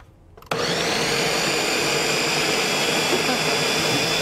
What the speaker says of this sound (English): That's a great blender.